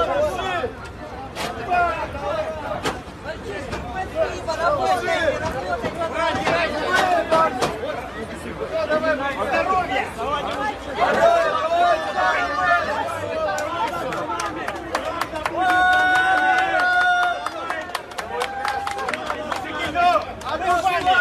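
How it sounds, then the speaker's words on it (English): Crowds in Rostov cheer and celebrate as Wagner fighters leave: a continuous, loud outdoor hubbub of many voices with shouts, whistles and chatter, plus scattered sharp bursts and a sustained tone near the end. "the people of Rostov cheer and celebrate Wagner as they leave"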